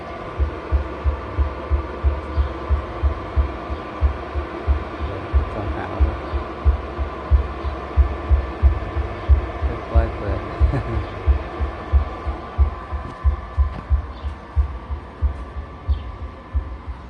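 A bass speaker driver is warmed up with a low throbbing tone, pulsing steadily about twice per second for the whole stretch, loud and close, under a faint background hum.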